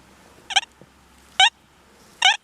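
Minelab Deus 2 metal detector signalling on a deeply buried dime: three short, warbling electronic tones spaced under a second apart, clear and close against a quiet background.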